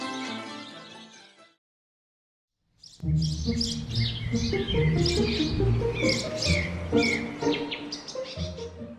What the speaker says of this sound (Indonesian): House sparrow atau burung pipit atau burung gereja yang memiliki nama ilmiah Passer domesticus